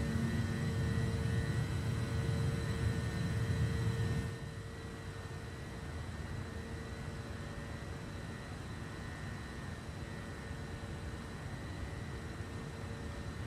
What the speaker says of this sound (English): Very slow lift off from the runway. But a very steep climb out for our angle of attack.